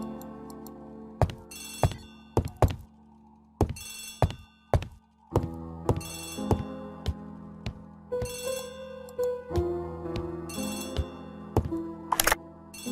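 An old telephone bell rings in repeated sharp bursts, clear and close, separated by short pauses with some knocks and ticking in between.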